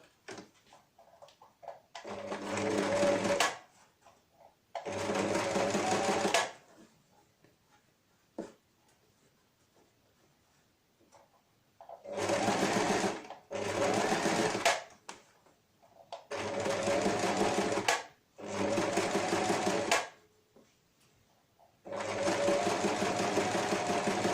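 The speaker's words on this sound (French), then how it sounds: "Après, je vais faire le surpiquage. C'est la couture nervure." A sewing machine topstitches a ribbed seam on a fabric face mask, running in several sustained bursts of a few seconds each, separated by short pauses, close and clear with no talking.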